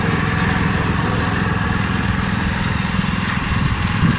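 A small farm cart's engine runs steadily close by, a loud, rough, rapid chugging putter that holds an even idle-like pace throughout.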